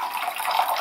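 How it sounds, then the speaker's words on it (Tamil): Water poured into a kadai pan holding soaked moong dal, a steady close splash and trickle lasting under a second with no voices. "இதை இந்த கடாயில் சேர்த்துட்டு அது கூட 3/4 கப் தண்ணி,"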